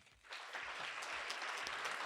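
Applause breaks out and swells into a steady, dense clapping from a large audience at a literary awards ceremony as the nominees are called to the stage, continuing without a pause.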